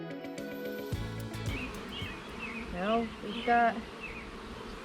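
Honeybees buzz in a dense, continuous hum around a hot, heavily bearding hive, with a few louder passes close by and a voice briefly speaking over it.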